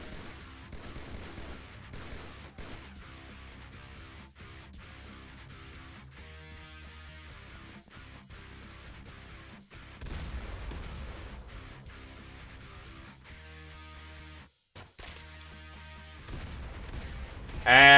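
Gunfire and rocket-launcher blasts from the turn-based strategy game XPiratez arrive as repeated bursts and volleys of shots at moderate loudness over a constant background.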